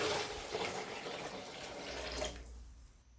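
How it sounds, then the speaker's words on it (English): Cold tap water pours into a bowl of beans, a close, steady rushing splash that runs for over two seconds and then cuts off. "and add cold water"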